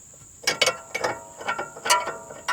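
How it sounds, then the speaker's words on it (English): A ratchet tightens a tension strut bolt on a BMW E90. It gives short, uneven runs of close metallic clicks, with a faint steady whine in the background. "make sure that the ratchet itself is in the off position, because you're supposed to go opposite, and you just tighten it like so"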